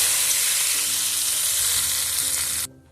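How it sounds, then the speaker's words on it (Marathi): Hot oil tempering poured over tomato thecha sizzles in a loud, steady hiss, then cuts off abruptly near the end with only a faint quiet tail. "आता या ठेच्याला तडका देण्यासाठी एका पॅनमध्ये कडकडीत गरम तेल करायचं आणि या टमाटरच्या ठेच्यात"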